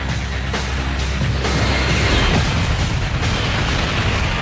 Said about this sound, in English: The KLM smashes into the American jumbo at 290 kilometers per hour. Just a shattering noise.